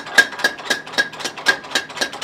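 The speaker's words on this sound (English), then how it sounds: "the steel is about 800 degrees when it comes out of the furnace, and when Doi starts to hammer it" Rhythmic hammer blows strike a hot laminated steel knife blade at a blacksmith's forge in Sakai, about nine sharp, ringing metallic hits in steady succession, close and clear.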